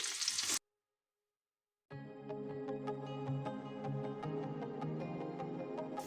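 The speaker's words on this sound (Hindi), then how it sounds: "प्याज को अच्छी तरह से गोल्डन ब्राउन होने तक मैं इसे फ्राई कर लेती हूँ।" Chopped onions fry in a pan, a steady close sizzle with light stirring clicks that starts after a short silence.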